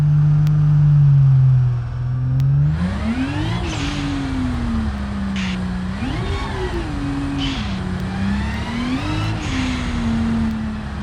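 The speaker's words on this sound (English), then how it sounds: "Just you hear that turbo start sucking air, and then all of a sudden that boost goes up and we start moving." A turbocharged car in the BeamNG driving game, its engine droning low, then rising with turbo spool and whoosh as boost builds and it accelerates through several revving pitch swells, loud and close.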